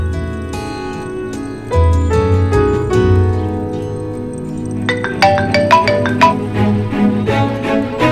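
A melodic phone ringtone plays a bright, repeating chime pattern, loud and close, continuing for several seconds over a low background hum.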